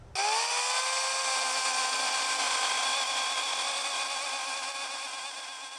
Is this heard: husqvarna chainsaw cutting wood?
yes